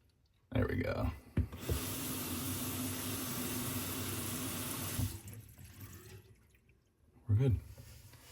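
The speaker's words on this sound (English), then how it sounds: "Add some water." Tap water pouring into a bathroom sink with a new lift rod pop-up drain, a loud steady rush for several seconds that then tapers into draining gurgles, with speech and handling noises at the edges.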